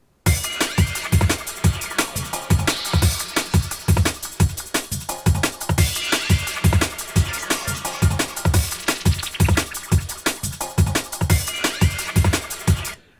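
Drum and bass loop built in Ableton: fast, driving breakbeat drums with punchy kicks and crisp snares repeat steadily under a dense, bright layer for the whole stretch, loud and upfront with no voices.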